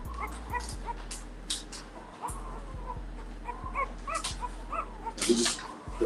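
Young puppy whimpering and yipping in short, repeated cries at close range while being dewormed, with a few louder yelps toward the end.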